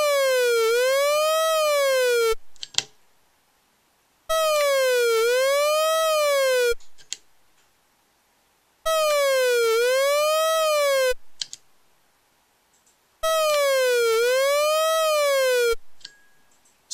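A Korg Odyssey synthesizer produces a dub siren with an LFO, four repeated wavering wails that sweep up and down in pitch, each lasting about two seconds and cutting off sharply, with short silences between.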